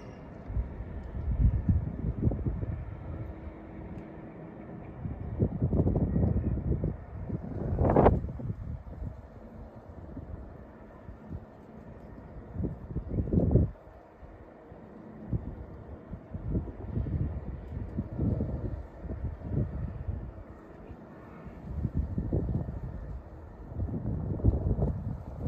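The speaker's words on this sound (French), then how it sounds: "Le vent se lève, hein, on le sent bien." Gusts of wind buffet the microphone outdoors during snowfall in Téteghem, northern France, rising and falling in low rumbling surges with a few sharper blasts, and no speech.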